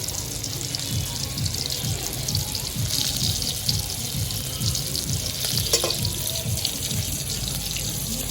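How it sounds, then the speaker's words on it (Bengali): Small tapse fish coated in gram flour batter frying in hot oil, a loud continuous crackling sizzle with occasional faint scrapes, close and unbroken. "আমার মাছ ভাজা প্রায় শেষের দিকে।"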